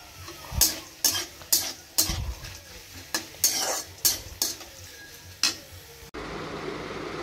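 Potatoes frying in a pan: a low constant sizzle under a run of sharp, regularly spaced spatula scrapes and clanks against the pan, about ten strokes, before the stirring stops and only the frying hiss remains.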